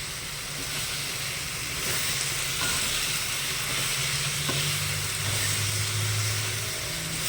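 Gongura leaves cook in plenty of oil over high heat, with a steady, dense sizzle and crackle that runs throughout and is heard close by.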